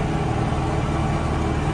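A tractor engine labours across a deeply cultivated sunflower field, giving a steady, close, dense low drone with no breaks.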